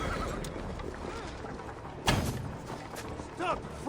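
A horse in the video game Assassin's Creed Valhalla whinnies with a wavering, rising-and-falling neigh near the end. Constant game noise and people talking run beneath it, along with a sharp burst midway.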